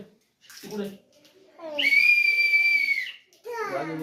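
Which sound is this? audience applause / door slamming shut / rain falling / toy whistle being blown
toy whistle being blown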